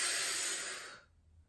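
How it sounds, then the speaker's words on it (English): A single long exhale during a Pilates twist, a soft airy hiss close to the mic that fades out after about a second, then near silence. "Breathing out and rotate."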